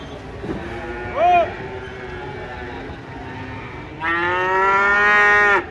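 A cow just off a truck at a market gives a short low call, then after a pause lets out a longer, louder moo that carries to the end, close by over steady background noise.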